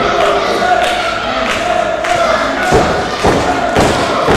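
A wrestler lands a suplex on a wrestling ring, giving heavy booming thuds over a loud, continuous arena crowd roar at a televised wrestling event.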